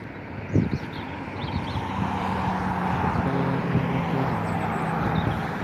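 A Ryanair Boeing 737 MAX 8 taxis at Dublin Airport, its jet engines giving a loud, steady rumbling whine with a droning hum that holds throughout, after a brief knock near the start.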